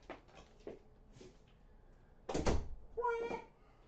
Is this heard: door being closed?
yes